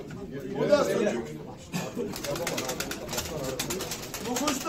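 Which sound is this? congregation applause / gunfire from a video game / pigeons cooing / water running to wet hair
pigeons cooing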